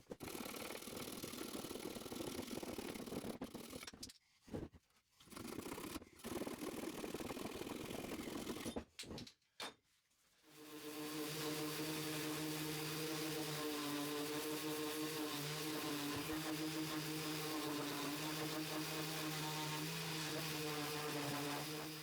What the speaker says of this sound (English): instead of just finishing them with the sander like this